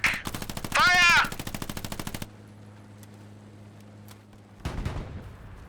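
Rapid machine-gun fire in a World War II video game battle against a German half-track, loud sustained bursts of rattling shots followed by a quieter lull with a low engine hum and then another blast, with a shout briefly over the firing.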